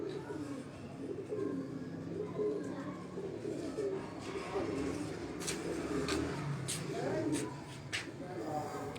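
Pigeons coo on a rooftop in Dharampura, Lahore, a low steady murmur mixed with chirps and distant car noise, and voices talk over it.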